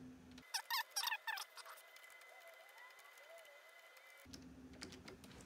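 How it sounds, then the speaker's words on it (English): Quick bursts of clattering keystrokes on a computer keyboard, typed as a command, sound near and fairly quiet before a lull and a few more light taps. "So now we're gonna do the command VG rename. And we're gonna type that exact UUID."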